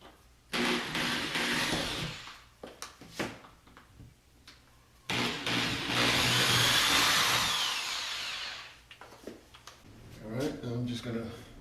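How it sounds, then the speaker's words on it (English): A power drill bores two holes into a wall for molly anchors while mounting a wall coat rack, with two long, loud whirring bursts separated by pauses and brief talk in between. "I'm just going to drill 2 holes where I made my marks."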